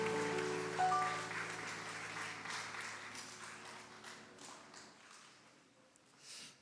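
Steady applause from a church congregation filling the space during a Sunday worship service, holding for several seconds before gradually thinning out, with a final swell at the end.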